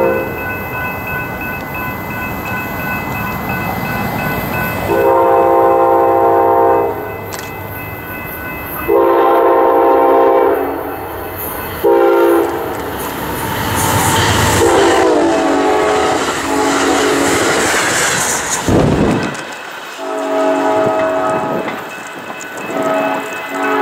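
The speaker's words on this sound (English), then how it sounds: "Here came Amtrak Cascades 504, daily service from Portland, Oregon to Seattle," Amtrak Cascades 504, a Portland-to-Seattle passenger train, passes nearby with a loud rumble and rail clatter, its horn sounding in several long blasts over the passing roar, which swells and fades away near the end.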